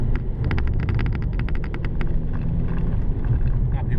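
A VW Golf GTI Mk5 with the 2.0 TFSI engine and a poly dog bone mount idles, a steady low rumble with some wind buffeting and a run of clicking ticks near the start.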